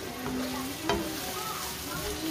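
Beans with onions and garlic cook in a pan, giving a steady low sizzle with a few brief stirring scrapes and clicks of a utensil, close and moderately quiet throughout.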